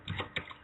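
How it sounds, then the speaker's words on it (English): A few loud, sharp keystrokes on a computer keyboard picked up by an open microphone during an online forum, clustered in quick taps within under a second. "someone's typing really loud"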